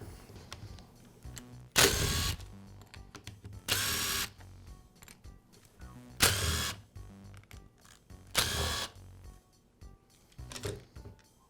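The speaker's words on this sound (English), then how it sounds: "I'll begin by removing half of the rear handle housing." A Makita polisher is taken apart at the rear handle housing, heard as four loud bursts of a power screwdriver, each about a second long, with quiet plastic clicks and handling noises between them.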